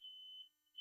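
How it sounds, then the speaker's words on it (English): A household fire alarm set off by cooking sounds as a single steady high-pitched electronic tone, sustained for about half a second, fading briefly and then returning, with no one speaking. "The fire alarm's going off."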